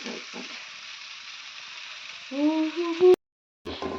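Food frying dry in a pan gives a steady, close hiss for about three seconds. A few short tonal scrapes and a click follow, then the sound cuts out abruptly before the sizzle briefly returns.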